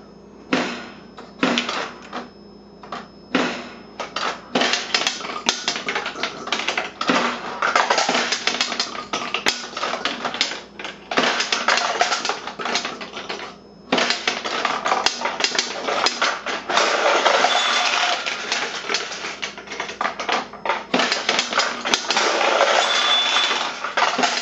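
A piece of glass handled on a mechanical rig, giving a dense, continuous rapid rattling and clicking that runs loud and close with only brief pauses.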